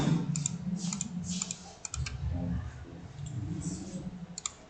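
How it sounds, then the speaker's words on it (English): Computer mouse clicks while selecting a batch of images in AutoCAD Civil 3D, a handful of sharp, close clicks scattered over a low background hum with no talking. "then we click on all of them."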